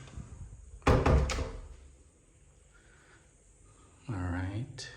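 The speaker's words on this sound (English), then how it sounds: "this is the actual door here that goes into the" A door into a private villa in Nasugbu, Batangas, Philippines opens with a short, close clunk and rattle, followed by quiet room tone and then a voice speaking briefly.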